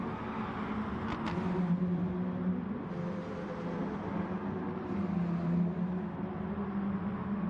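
A Porsche and a V8 race car in a racing video game make a steady, moderate engine drone with a low rumble and shifting tones throughout.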